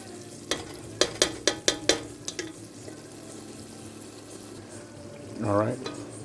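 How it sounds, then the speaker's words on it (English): Spoon stirring flour into a shrimp etouffee roux in a pan: a run of sharp clacks against the pan, then a soft sizzling background and a brief rising whine near the end. "we want to actually add our flour in a minute to make our roux. Stir it around nicely."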